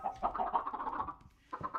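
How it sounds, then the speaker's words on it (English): Chickens clucking in a Minecraft world, with a flock gathered near hoppers: a short, quiet run of clucks, a brief pause, then another burst. "there are already a lot of chickens in the top"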